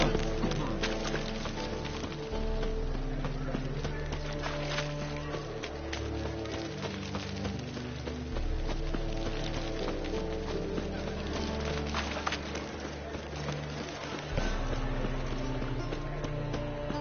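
Horse hooves gallop in a fantasy video game, a steady run of clip-clop beats mixed with music and game sound, while brief shouted voices come in over it.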